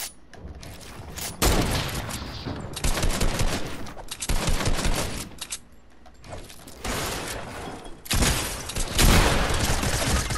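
Rapid bursts of gunfire from a Fortnite match fire in several long volleys separated by short lulls, loud and dense, with mechanical clatter between the bursts and no talk over them.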